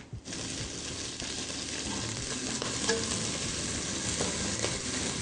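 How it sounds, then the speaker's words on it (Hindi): Garlic sizzling and frying in a pan just after white vinegar is poured in, a loud, steady crackling hiss with occasional stirring scrapes, continuous and close, with no voices. "अब सिरके के डालने से लहसुन ज़्यादा फ्राई होना शुरू हो गया"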